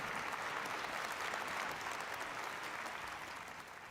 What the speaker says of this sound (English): Please give a warm round of applause and welcome to everyone.